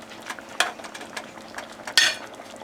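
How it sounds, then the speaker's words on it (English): Pork chops in a maple Dijon glaze are turned and reheated in a pan, with a rapid run of clinks and scrapes from utensils against the pan over a faint sizzle, close by and without speech. "you'll notice that I'm turning them in there just to kind of get them coated a little bit"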